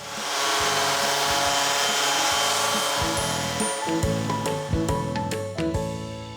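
A power sander works over a wooden thrift store nightstand, producing a steady close whir and rasp with shifting pitch and scattered clicks and knocks toward the end, with no one talking.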